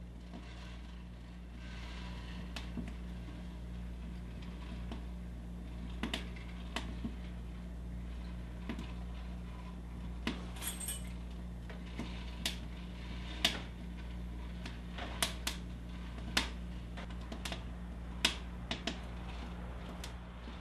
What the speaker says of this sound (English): Notice how it sounds quite a bit like popcorn popping.